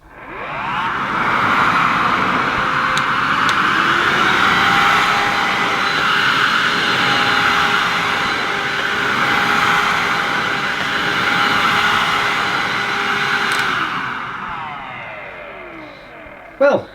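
A Miele TriFlex HX1 cat and dog vacuum cleaner fitted with a straight suction nozzle runs steadily over carpet, a loud continuous whooshing drone that holds level for most of the stretch before easing off near the end.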